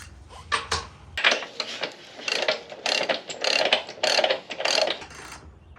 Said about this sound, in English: you want to go ahead and loosen up the chain adjusters first